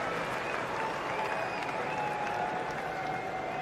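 A large cricket crowd at an MCC versus Rest of the World match applauds and cheers steadily as Yuvraj Singh walks out to bat, a dense, continuous wash of clapping and roaring heard from within the stands.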